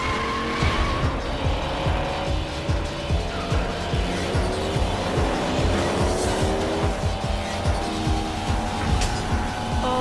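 Racing cars squeal and skid in a gaming console ad, with loud engines whining and tires screeching continuously over a busy, driving rhythm and no speech.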